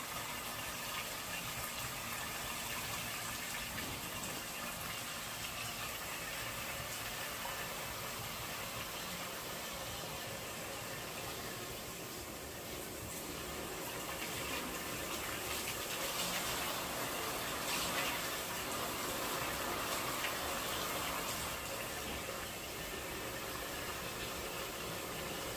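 Water from a shower or tap runs steadily over hair as it is washed, a constant, fairly faint hiss and gush that barely changes throughout.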